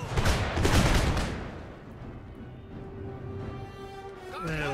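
Musket volley of return fire in an Empire: Total War battle: a dense crackling burst of many shots in the first second or so, then fading into a lower rumble of battle ambience.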